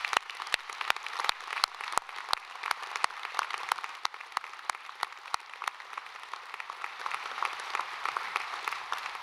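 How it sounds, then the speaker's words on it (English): A commencement crowd applauds the graduates at a winter ceremony, a sustained wash of many hands with one nearby clapper's sharp, evenly spaced claps cutting through before settling into the general applause. "Will everyone here join me in congratulating today's graduates with a round of applause?"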